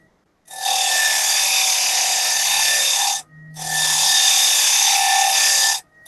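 A wood lathe turning a piece against a scraper gives two sustained bursts of steady, close rasping whine, separated by a brief pause, with no talking.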